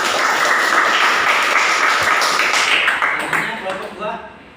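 A classroom group applauds a student team after a presentation in a biology lesson, with dense clapping that stays steady and then thins out and fades over the last second.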